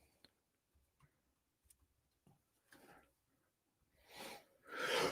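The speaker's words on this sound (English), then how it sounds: "I don't sneeze that often" A person sneezes, in a quiet, close burst followed by a second breathy burst, after a few faint ticks and soft breaths.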